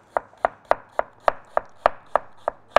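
A knife chops an onion on a board for spicy tilapia, with about ten crisp, evenly spaced cuts close to the microphone, sounding alone with no talk.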